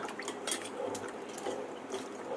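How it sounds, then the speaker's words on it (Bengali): Okra being rinsed under running water, a quiet trickle with scattered drips and faint splashes against a bowl, with no voices. "ভেন্ডিটা আমি ভালো করে একটু ধুয়ে রাখবো"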